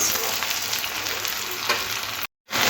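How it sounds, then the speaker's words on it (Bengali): Onions and chopped tomato frying in a pan while being stirred, a dense continuous sizzle with soft scraping strokes, close and alone, cutting off briefly near the end. "পেঁয়াজগুলো একটু নাড়াচাড়া করে একটু লাল লাল করে ভেজে নেব"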